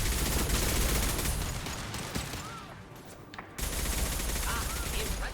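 Gunfire rattles through a colony defense battle in Mass Effect Legendary Edition, with dense bursts of shots and mechanical clatter that drop away briefly before the shooting resumes. A voice speaks at times over the combat.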